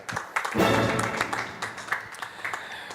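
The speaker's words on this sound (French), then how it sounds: "On applaudit Fred." Applause from a studio audience on a live show's season finale swells in quickly and carries on for a few seconds, a dense patter of clapping that slowly thins out.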